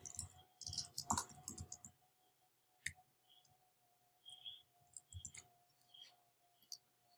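Quiet clicking keystrokes on a computer keyboard, a quick burst of typing at first, then scattered taps and short runs of keys with pauses between them.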